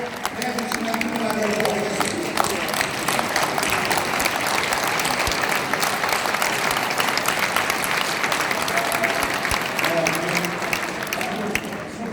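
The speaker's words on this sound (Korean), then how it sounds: "여러분 다 같이 기립박수로" A hall full of people at a church general assembly gives a standing ovation, with dense, steady clapping that holds loud throughout and a few voices over it.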